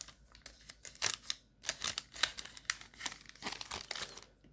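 Scissors cut open Japanese Pokémon card booster packs, two at a time, giving close, quiet bursts of crinkling foil and sharp snipping in an irregular series with no voices.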